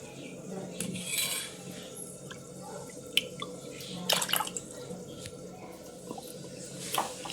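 Water is poured into a metal pot and stirred while making ragi phulkas in a home kitchen, giving faint trickling and dripping with sharp clinks of a utensil against the vessel over a quiet room.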